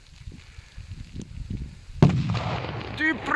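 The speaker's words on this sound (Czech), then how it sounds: "Dumbum 50, poslední petarda, zdrhám pryč." A Dumbum 50 category F4 firecracker goes off outdoors in snow with one sudden loud blast, followed by a sustained roar and crackling debris.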